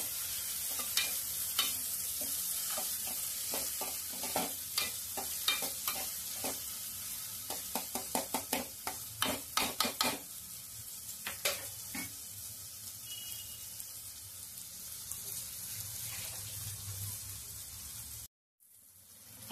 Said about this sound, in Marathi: आता या कांद्यामध्ये मी हा टोमॅटो पण टाकून घेते। या टोमॅटोला पण चांगलं फ्राय करून घेते।